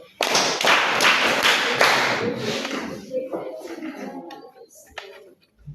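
A classroom group claps together at a forest and climate project session, a loud burst of rhythmic claps for about two seconds that fades into scattered claps and a few thumps, with voices briefly audible.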